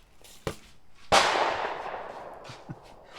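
A single loud black powder shot from a Civil War-era Greene bolt-action rifle firing paper cartridges, a sharp blast with a long rolling decay, set between fainter distant pops before and after.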